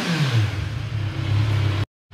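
A 2025 Kawasaki Z1000R motorcycle engine revs in short blips with a rising and falling drone, loud and close, then cuts off abruptly for a brief gap before resuming.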